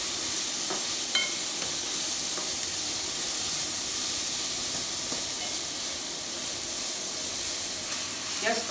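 Steady sizzling of split red chillies frying in hot oil, a continuous crackling hiss with occasional louder pops and faint stirring.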